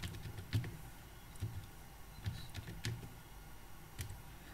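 Typing on a computer keyboard in an Ubuntu 18.04 terminal, with scattered soft key clicks and taps spread at an uneven pace over a faint, steady background hum.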